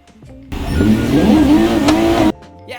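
A car in BeamNG roars as nitrous kicks in, a loud engine note that climbs in pitch for under two seconds before cutting off abruptly, with quieter game sounds before and after.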